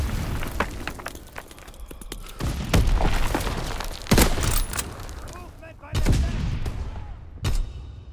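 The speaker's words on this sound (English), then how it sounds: "Incoming enemy artillery." Incoming enemy artillery in a Call of Duty WW2 match: repeated loud booming blasts and bursts of gunfire, several heavy impacts spaced a second or two apart, with game voice chatter mixed in.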